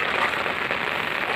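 Heavy rain falls along a road between Namrup and Rangoli, making a steady, even hiss of moderate loudness with no voices.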